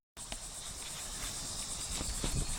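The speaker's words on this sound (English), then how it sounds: "So bees are starting to get attracted to me" Honey bees buzz around a beekeeper during a honey harvest, a steady, dense insect hum with a high whine that holds close and fairly loud for the whole stretch, with no talking.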